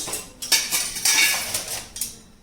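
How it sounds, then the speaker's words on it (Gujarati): A metal pressure cooker lid is opened after cooking kala chana (black chickpeas) through four or five whistles, giving a short run of close metallic clanks, clinks and scrapes with no talking. "હવે આપણે કુકરનું ઢાંકણ ખોલી"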